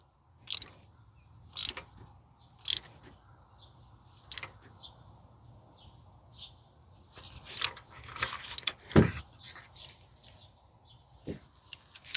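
Spark plug being tightened snug on a Toyota 2GR-FE 3.5 V6 in a 2015 Sienna AWD: a few sharp ratchet clicks, spaced about a second apart, then a denser burst of metallic clicking, close and fairly quiet.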